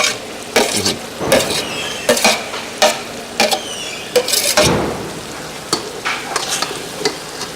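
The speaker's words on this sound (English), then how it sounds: "we're going to mix them with the eggs. And scramble them up." Tomato and onion eggs being stirred and scrambled in a hot pan for a Nicaraguan breakfast, with a steady sizzle under repeated scraping and clanking of a utensil against the pan, close and fairly loud.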